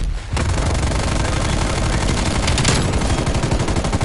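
A light machine gun in Call of Duty: Cold War multiplayer fires one continuous, loud burst of rapid automatic shots for about four seconds, dense and close.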